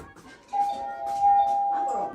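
A doorbell sounds a sustained steady electronic tone for over a second, ringing moderately loud over faint room noise before fading out.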